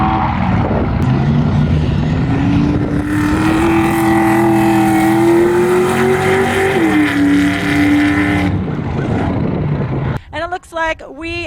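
Off-road race vehicle engine at King of the Hammers descending the final rock section, a loud sustained roar with revs climbing and then dropping off, followed by a commentator speaking over quieter background.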